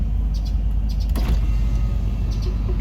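The electric windows of a Honda CRX whir as they move, with clicks and a short mechanical thump partway through over a low cabin rumble, close up and with no talking.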